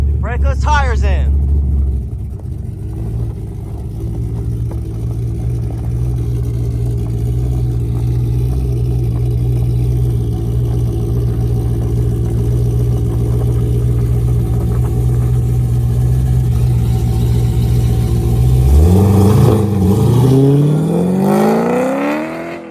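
Car with traction assist switched off, revving hard on gravel, its engine droning steadily and loudly for most of the stretch before a rising rev surge near the end, with people talking over it.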